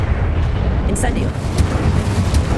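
A loud, roaring burst of flame from the Incendio fire spell cast in Hogwarts Legacy, a dense sustained whoosh with rumbling low end and a few crackling flickers, with a voice mixed in underneath.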